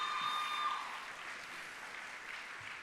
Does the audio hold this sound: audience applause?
yes